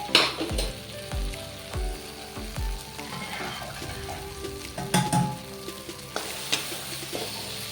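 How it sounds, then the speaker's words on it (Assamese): Boiled vegetables tip into a hot pan of onion and potato and burst into loud sizzling, with scraping stirs and a few clunks of a ladle against the pan. "এতিয়া মই জহাটো লৈ বইল কৰি থোৱা সেই তৰকাৰীখিনি ইয়াত ঢালি দিম।"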